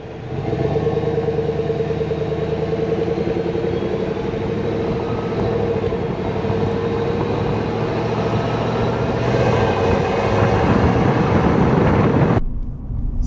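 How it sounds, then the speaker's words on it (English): A 2025 Chevy Silverado V8 truck's exhaust drones loudly and steadily from inside the moving vehicle, a deep continuous engine rumble that swells slightly before cutting off abruptly near the end, with no talking. "but listen to that exhaust."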